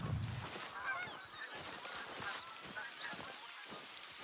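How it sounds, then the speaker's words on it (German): Geese honk repeatedly as they fly overhead in the video game theHunter: Call of the Wild, amid a busy, noisy background, calls overlapping at moderate distance with no talking. "die Gänse über uns langziehen hören."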